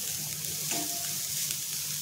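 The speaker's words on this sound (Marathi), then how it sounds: "गॅसवरती कढई ठेवून इथे आपल्याला जवळा भाजून घ्यायचा आहे" Dry baby prawns (jawla) roasting in a kadai over a gas flame give a steady, soft sizzle with faint crackles, close and continuous for two seconds with no talk.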